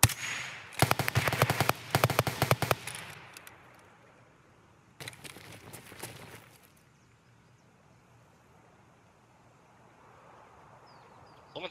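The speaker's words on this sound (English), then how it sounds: "That wasn't me shooting." Video game gunfire rattles out in rapid automatic bursts, loud and close, for about two seconds. A second burst follows after a pause, then the scene goes quiet with faint ambience.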